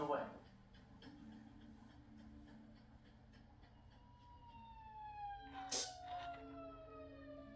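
Siren from an emergency vehicle, faint and distant, a single rising wail sweeping down in pitch beneath a low background rumble, with a brief sharp burst near the end.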